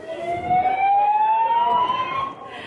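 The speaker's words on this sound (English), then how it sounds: "We will just hope that they can turn off the sirens." A loud electronic fire alarm siren wails steadily after a false alarm, its tone sweeping slowly upward before cutting back, sounding close and continuous.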